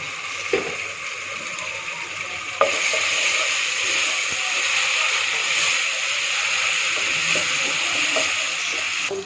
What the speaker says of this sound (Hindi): चम्मच में ये डाल रही हूँ लहसुन और अदरक का पेस्ट।